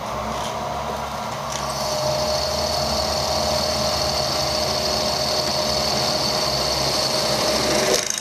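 A cobalt drill bit from a Banggood multipack bores along a pilot hole, a steady high whining motor with a grinding edge, loud and continuous for several seconds, without speech.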